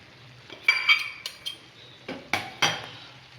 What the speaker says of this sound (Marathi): आता या राईसवर आपण टाकूयात भाजी जी आपण मगाशी साईडला काढलेली होती. ही पण छान पसरून घेऊया.